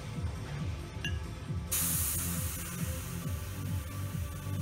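A waste oil atomizer sprays oil with a steady pressurized hiss that jumps louder partway through, over a rhythmic mechanical pulsing and clicking underneath.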